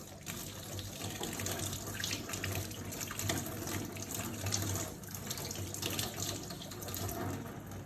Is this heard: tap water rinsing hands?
yes